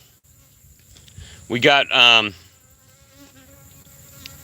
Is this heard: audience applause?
no